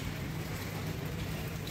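Rain falls outside during dark, rainy weather, a soft, even patter and hiss heard faintly from indoors, continuous with no voices.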